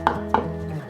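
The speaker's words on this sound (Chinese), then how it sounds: "切细条状，切成小细丁" Knife dicing carrot into small cubes on a cutting board for a vegan cabbage dish, two sharp chops close and clear, then a quiet pause.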